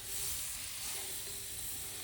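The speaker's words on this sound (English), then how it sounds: "Love the sizzling of butter" Steady, bright sizzle of butter frying in a hot pan, close and continuous with a soft crackle throughout, no voices.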